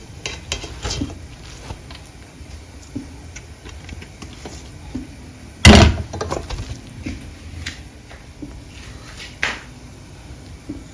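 Soft scraping and light rustling of cooked rice poured back into a metal pan, with one sharp clatter in the middle, over a continuous low kitchen background.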